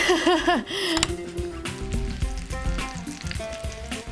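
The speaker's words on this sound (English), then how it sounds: "And now we're gonna get our onions in our pan. Woo! Love that sizzle." Onions hit a hot pan with a loud, steady sizzle and crackle. A short vocal exclamation comes right at the start.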